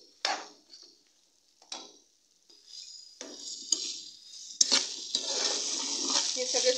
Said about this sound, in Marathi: आता आपण याच्यात पनीरचे तुकडे घालणार आहोत, जे आपण तळून घेतलेले. आणि हे चांगले सगळे मिक्स करून घ्यायचे याच्यात.